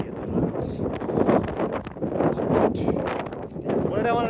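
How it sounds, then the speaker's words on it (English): Gusty wind buffets the microphone outdoors on a sunny, cloudy day, a steady loud rumbling roar with rustling surges throughout, briefly easing and swelling again, with a voice faintly present. "It's very windy at the moment."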